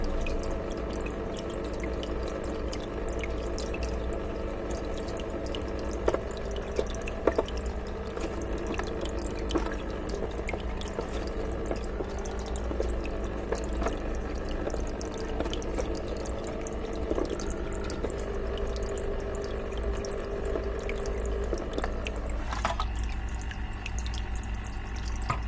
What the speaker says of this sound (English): the water would flow through the foam, through the bacteria cartridge and into the tank.